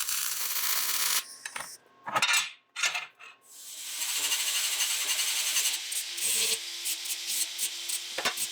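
An angle grinder works the welded corners of a steel box in bursts of harsh, hissing grinding, broken by short pauses and metallic clatter.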